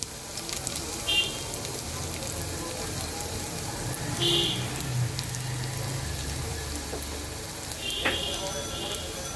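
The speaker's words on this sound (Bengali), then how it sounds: "দেখো রসুনটা কিন্তু খুব সুন্দর ভাজা হচ্ছে।" Garlic and dried chillies sizzle steadily in hot oil in a pan, a soft, continuous crackle with a few brief utensil clinks. Someone talks over the frying.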